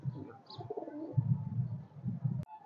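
Highflyer pigeons coo in low, throaty repeated bursts close by, a steady murmuring rhythm broken by a sharp click near the end.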